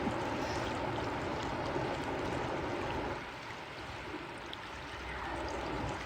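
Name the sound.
roaring water coming down the river as the tide turns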